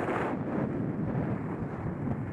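Wind buffets a microphone outdoors on a sunny, gusty April day at Stratton ski area, a constant low rumbling roar with no voices.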